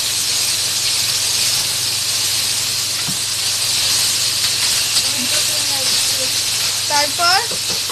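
Ginger-garlic paste sizzles steadily in a hot pan as it is stirred, a constant loud hiss with a continuous hum underneath and people talking briefly near the end.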